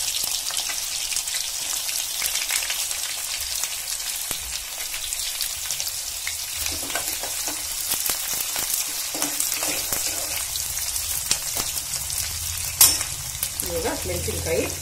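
Onions fry with mustard seeds in oil, making a dense, steady crackling sizzle that sounds like rain and lasts the whole time. A few scattered stirring knocks and scrapes come through near the pan, and there is no speech.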